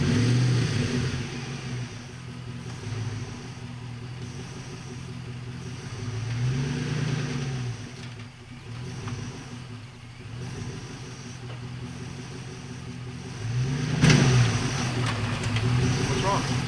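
Hemi engine from a Durango in a body-dropped 1960 racing milk van, revving in repeated surges that rise and fall over a steady idle, with people talking nearby throughout.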